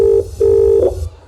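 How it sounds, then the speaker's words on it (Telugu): A telephone gives two clear dialing beeps, a short tone and then a longer one, close and loud while a call is placed, with no talking. "ఏంటి నాన్న ఫోన్ లిఫ్ట్ చేయట్లేదు?"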